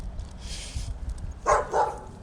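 Dogs make a faint whimpering whine, then give two short, close barks in quick succession.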